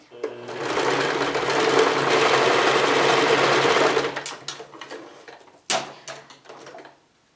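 Close by, a sewing machine stitches a thermal therapeutic pillow in one continuous four-second run, then stops, followed by handling clicks and a sharp knock.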